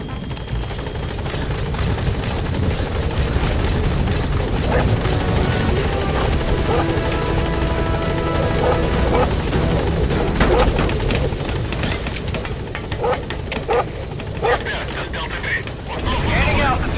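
The Pequod helicopter from Metal Gear Solid V thunders steadily with dense rotor chop and turbine roar, loud and close throughout, with a radio voice speaking over it and sharp mechanical clatter building toward the end.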